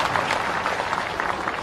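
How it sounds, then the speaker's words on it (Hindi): Applause from a crowd at a BJP gathering in Bhopal, a steady wash of many hands clapping that carries on evenly for under two seconds. "ताली बजाओ तो सबके लिए बजाओ"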